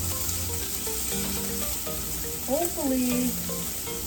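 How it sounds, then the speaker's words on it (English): Steady hiss of scallops frying in a pan throughout, with a brief spoken word partway through. "Look, we got some sizzle going."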